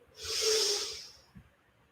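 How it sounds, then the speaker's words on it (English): A deep yogic inhale during a vinyasa flow class: one long, airy, hissing breath drawn in through the nose, swelling and then tapering off, close and clear with no talk over it. "Breathing in."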